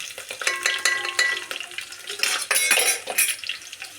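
Curry leaves fry in hot oil for a fish curry, a close crackling sizzle with scraping and clinking of a spoon against the pan, steady over four seconds with no talking.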